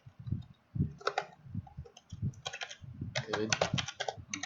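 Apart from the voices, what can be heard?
typing on a computer keyboard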